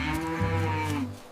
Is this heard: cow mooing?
yes